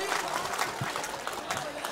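A mushaira audience claps, a brief, dense burst of applause with crowd murmur that stays fairly even throughout and is heard at a distance.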